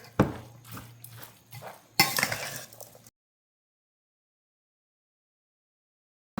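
Seasoned ground beef for a stuffed cabbage roll casserole is mixed in a dish, making close clinks and squelchy stirring for about three seconds before it goes silent, with a brief knock at the very end.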